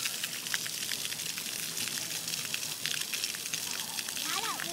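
Water splashing and spraying steadily as a rider rides through it, a continuous hissing gush at moderate level from start to finish.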